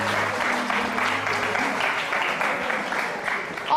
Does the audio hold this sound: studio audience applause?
yes